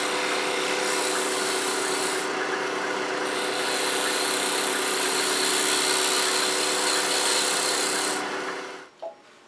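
A wood lathe turns a wooden napkin ring, with a loud, steady whirring motor hum and a continuous hissing cut that briefly brightens and drops away as the tool lifts near the end.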